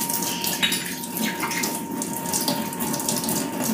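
Tap water runs steadily into a kitchen sink while something is washed, a continuous close rushing splash with no break.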